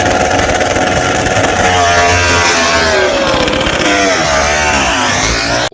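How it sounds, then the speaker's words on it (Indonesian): Toy racing motorcycle producing a loud, close buzzing engine sound that rises and falls in pitch like revving, continuous until it cuts off abruptly at the end. "Ini ada motor balap."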